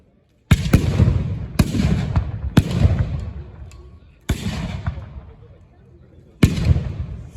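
At a reenactment of the 1793 assault on Arlon, Belgium, a battery of 6- and 12-pounder cannons fires five loud, sharp booms at irregular intervals. Each blast leaves a long rumbling decay before the next shot.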